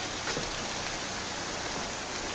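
Steady rain falls in a dense, even hiss, constant and close throughout with no other sounds.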